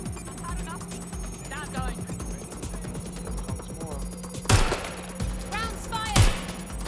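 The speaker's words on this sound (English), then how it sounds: "Target is firing!" Gunfire in the video game Watch Dogs: Legion: two sharp, loud shots ring out a couple of seconds apart over a busy bed of game sounds, while voices talk throughout.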